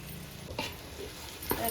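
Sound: stirring cooked beef in pan for Kerala beef varattu

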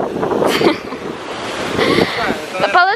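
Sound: sea waves on the shore

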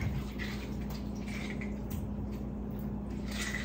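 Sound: rinsing corn under running water

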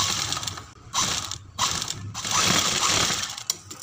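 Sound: sewing machine stitching piping along buckram edge of kurti neck

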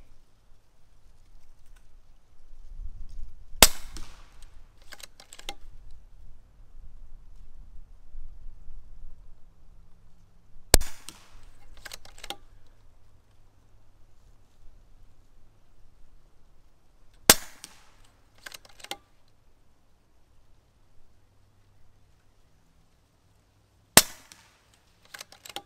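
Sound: AGN Uragan .22 caliber air rifle shots

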